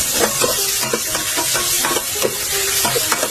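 Chopped onion hits a hot pan for chicken tinola and sizzles steadily while a spoon scrapes and stirs in a brisk, regular rhythm of close, clear strokes. No voices are present.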